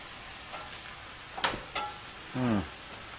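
Oysters frying in a pan during a beer-themed cooking session, a soft steady sizzle with a few sharp clinks and a brief scraping stir near the end, close and fairly quiet.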